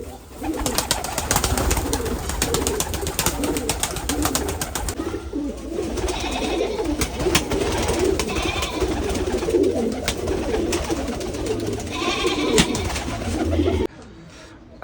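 Pigeons coo steadily and overlap one another in a home pigeon loft, with bursts of wing flutter. The sound is dense and close and runs almost the whole time before stopping abruptly near the end.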